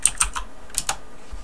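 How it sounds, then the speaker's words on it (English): Quick, close bursts of typing on a computer keyboard as an IP address is entered, a handful of crisp key clicks in two short groups with a brief pause between, no speech. "in here type in that same IP address"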